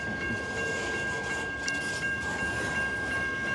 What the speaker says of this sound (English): This train loaded overnight at Warrior Coal Mine, which is close to Nebo, Kentucky.